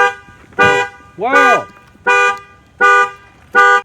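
A car alarm blares loudly and close by, a series of harsh repeated horn-like bursts in a regular rhythm, with a brief startled exclamation from a person at the start.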